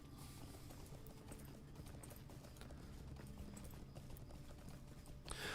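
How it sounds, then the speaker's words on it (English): Horse hooves clip-clop in a steady rhythm in the online game Lord of the Rings Online, continuous and close, ending in a brighter burst of sound. "I will switch to my horse now, because there's one up the hill"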